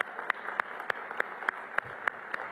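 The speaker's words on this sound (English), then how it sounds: "So let's give her another round of applause." An audience applauds at a public DC government presentation on a plan to increase Black homeownership, giving a steady wash of clapping with one near, sharp clapper beating a regular rhythm on top, without talk.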